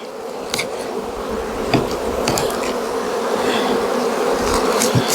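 Honey bees buzz steadily and loudly around an opened beehive during an inspection in a strong fall nectar flow, with a few faint clicks and knocks from handling the hive and no speech.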